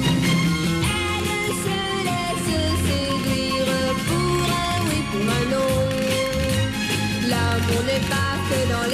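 A song plays as full recorded music, a dense band arrangement with a sung melody, continuous and prominent with no talking over it.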